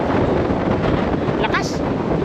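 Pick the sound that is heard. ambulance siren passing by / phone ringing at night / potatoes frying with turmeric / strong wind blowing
strong wind blowing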